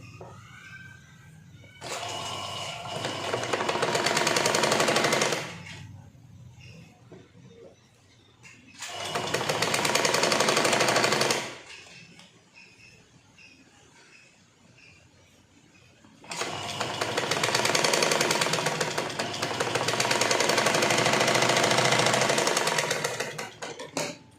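A sewing machine attaches a sleeve to a blouse in three loud, steady bursts of stitching. Brief quiet pauses with faint handling noise separate the bursts, and the last run is the longest.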